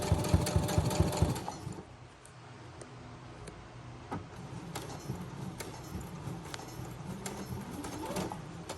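Stitching a military dress shirt, a sewing machine hammers out a loud, fast rhythmic chatter at first, then drops to a lighter, steady hum with scattered ticks and taps close by.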